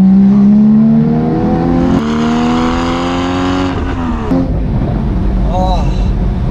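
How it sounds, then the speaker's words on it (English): Porsche Boxster Spyder with a manual gearbox revving hard through a rev-matched downshift, its engine note rising and falling loudly up close, with sharp exhaust crackles and pops at the end. "All I did was change down, and the car matches the revs, and oh, those crackles."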